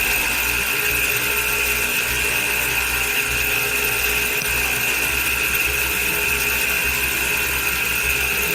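An e-bike BLDC motor kit spins forward with no load, run up to maximum RPM on the throttle. It gives a steady, high-pitched electric whine with a low hum underneath, continuous and unchanging throughout.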